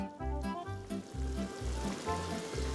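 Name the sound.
stirring amatriciana sauce sizzling in pan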